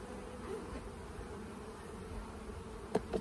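Honeybees drone steadily around an open hive while a beekeeper works the frames, a close continuous buzz with a couple of louder passes near the end.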